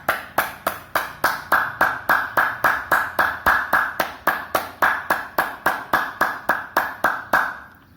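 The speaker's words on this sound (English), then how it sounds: "So clap loudly for 324 times like this." Loud, sharp hand clapping in a yoga practice, about two dozen evenly spaced claps in a steady quick rhythm, close and alone without talk, stopping just before the end.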